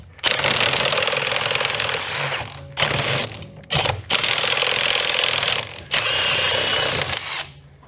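A small power tool buzzes in several loud, rattling bursts with short pauses between them as it loosens a nut on a Toyota Previa whose engine has been removed.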